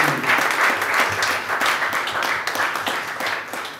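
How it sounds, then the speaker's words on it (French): A church congregation applauds for the Lord in a dense, steady wash of clapping that fills the room evenly from start to finish. "Acclame pour le Seigneur."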